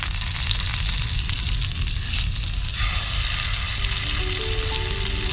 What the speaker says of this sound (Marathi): बघा एके साईडला मावरा पण फ्राय करायची सुरुवात